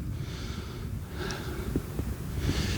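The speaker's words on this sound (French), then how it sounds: "Désolé, on renifle." Sniffing and heavy breathing from someone climbing a steep path up to a castle, with short snorts and gasps close to the mic over a steady rustling background.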